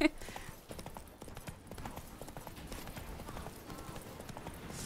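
Horse hooves in The Witcher 3 clip-clop steadily and rhythmically, moderately close, with the game's ambient background underneath.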